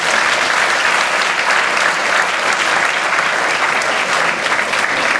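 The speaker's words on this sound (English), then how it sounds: "So please join me to give a big applause." Sustained, dense applause from a seminar audience at a rice-breeding exit presentation, loud and steady throughout with no talk over it.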